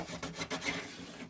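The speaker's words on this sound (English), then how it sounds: "take your bone folder, give it a rub in there" A bone folder rubs over the flaps of a paper tissue box, giving a brief series of dry, close raspy strokes, fairly quiet and with no talk.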